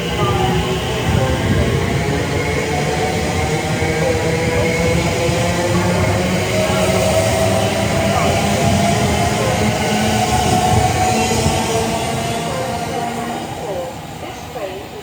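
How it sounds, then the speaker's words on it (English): An Elizabeth Line train rumbles loudly and steadily into a station platform on the Great Western Main Line in rainy weather, a continuous heavy rail roar with squealing overtones that eases slightly near the end. "The next train to arrive at platform 3 will be the 13-18 Elizabeth Line service to Heathrow Terminal 4 via Heathrow"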